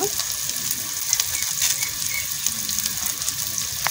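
Dal spice stirred through hot oil in a pan while cooking dal with raw mango, giving a steady close sizzle with soft scraping and clinking from the stirring throughout.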